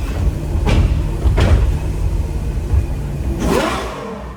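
A Ferrari GTC4Lusso V12 revs in bursts, with several sharp throttle blips and gear-shift cracks over a steady loud engine drone, heard close up.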